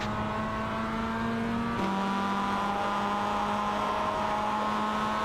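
Mazda MX-5 race cars run flat out down a long straight, a steady droning engine note holding high revs with a brief gear change partway through, continuous and close.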